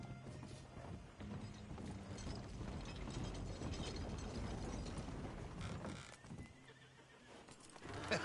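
A horse in the Red Dead Redemption 2 video game whinnies amid clip-clopping hooves and creaking tack or mechanical rattling, quiet and continuous with no speech.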